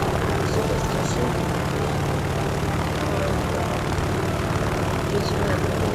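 Aircraft engine in a video game, a steady loud drone with a low propeller-like hum running unbroken throughout, with no pauses or changes in pitch.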